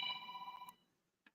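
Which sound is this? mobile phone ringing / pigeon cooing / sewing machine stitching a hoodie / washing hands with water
mobile phone ringing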